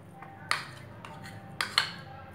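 A spoon stirring oil and spices in a pan while cooking an onion curry, with a soft continuous scrape and three distinct metallic clinks against the pan.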